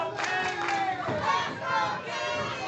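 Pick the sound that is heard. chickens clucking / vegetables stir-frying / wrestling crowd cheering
wrestling crowd cheering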